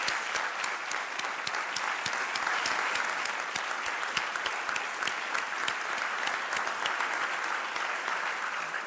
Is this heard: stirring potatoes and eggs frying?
no